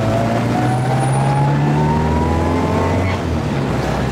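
A Mini Cooper 1275 S engine pulls hard after a gear change, a loud continuous in-car drone rising steadily in pitch as it accelerates, with no talking.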